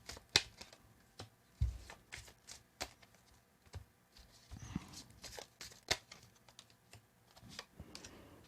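Tarot cards are shuffled in quick, crisp riffles and taps, close and fairly quiet, with short bursts separated by brief pauses.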